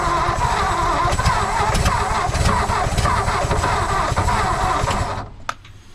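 An old 1959 Ford F-600 straight truck with a Y-block engine and old ignition points cranks and catches, a loud close rough mechanical roar that runs steadily for several seconds before cutting off.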